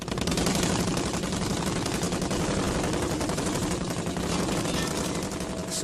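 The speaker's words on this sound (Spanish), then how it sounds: "En cuanto ascendieron, Empezaron a dispararles." Dense, continuous rattle of machine-gun fire aimed at a surfacing World War II U-boat crew, rapid crackling bursts packed together over a rumbling background for several seconds.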